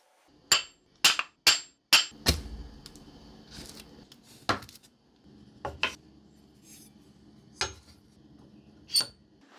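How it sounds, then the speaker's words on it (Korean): Handle being removed from a rusty knife, a series of sharp metallic taps and knocks, several quick strikes then scattered single hits with quiet scraping between, close and without talk. "먼저 이 핸들을 분리하고 시작하겠습니다"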